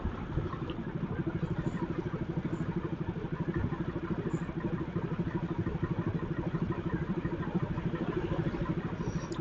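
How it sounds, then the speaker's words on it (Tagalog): Motorcycle engines idle and rumble in a steady, rapid low throb, continuous and fairly close, with a faint clatter layered on top. "Mamamask ako ng tunog ng motor nila."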